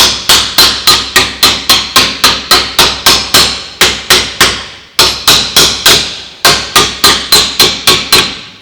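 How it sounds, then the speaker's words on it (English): A hammer forms steel sheet metal for rust repair on an HG driver's door, with loud, close, evenly paced ringing blows in quick runs of strikes broken by two short pauses. "Now I need to hit this a bit harder because we have got a bigger piece of metal"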